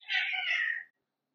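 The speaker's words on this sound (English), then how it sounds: "My cats are fighting." A cat gives a single drawn-out, strained yowl during a fight between house cats, close and alone, lasting under a second before silence.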